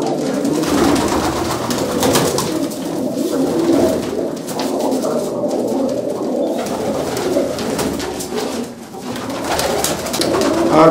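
Pigeons coo repeatedly close by, pure red Cheena breed birds kept for pigeon flying, soft throaty calls overlapping in a steady flock chorus with no talk.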